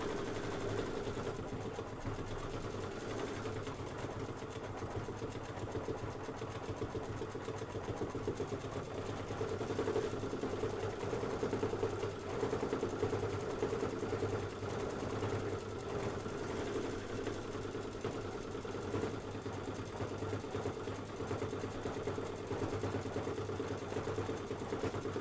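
An embroidery sewing machine stitches an ice-cream chip detail on a Kimberbell two-scoops project, running as a steady, even mechanical whir at low volume throughout, close up and with no voices.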